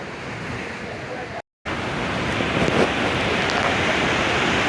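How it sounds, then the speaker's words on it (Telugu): The Yamuna river rushes past at Yamunotri in the Himalayas, a loud, broad, continuous roar of flowing water close by, broken by one brief dropout. "చూసారా యమున ఎలా పారుతుందో."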